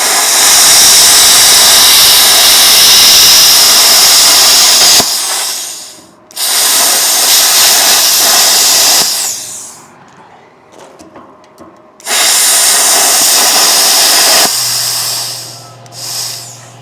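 A Vevor CUT-50P pilot arc plasma cutter slices through thick metal at reduced amperage. It makes a loud, harsh roaring hiss in bursts of several seconds, broken by short gaps and quieter stretches, with a low hum near the end.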